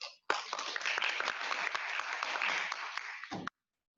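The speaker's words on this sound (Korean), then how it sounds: "많은 박수 부탁드리겠습니다" An audience at a student academic presentation event bursts into applause, a dense crowd of hands clapping loudly and steadily for about three seconds before cutting off abruptly.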